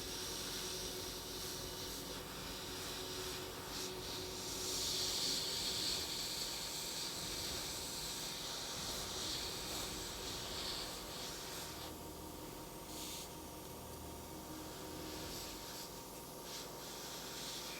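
An airbrush nozzle hisses steadily while spraying paint onto an animated broom miniature's spell effect, a continuous soft airy spray with slight variations, close and quiet, no talking.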